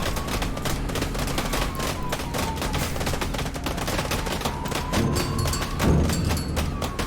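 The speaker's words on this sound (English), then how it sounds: "Where am I being shot from?" Dense, continuous gunfire from the Killdozer VR video game, rapid shots rattling without pause over a loud constant din, with heavier thuds near the end.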